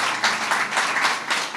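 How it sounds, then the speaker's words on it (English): A round of applause from a standing crowd honouring the Bridge team at the Wellspring affordable and supportive housing development ribbon cutting, steady dense clapping with slight surges, moderately loud and without talk. "So if you all would just stand for a minute, just get a round of applause."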